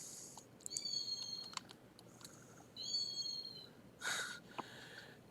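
A woman imitates a cat, giving a few short, high, wavering meows separated by quiet pauses, close and fairly faint.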